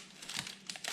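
Masking tape crumpled by hand while an ice maker in a Kenmore refrigerator is being replaced, giving a near, crinkly rustle with a few louder crunches and no talking.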